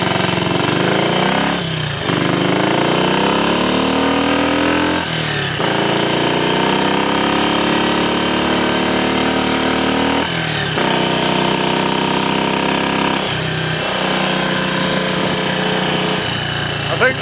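Triumph Scrambles Cub replica motorcycle engine running, a loud, close, steady single-cylinder thrum with a few brief revs or gear changes, continuing without pause.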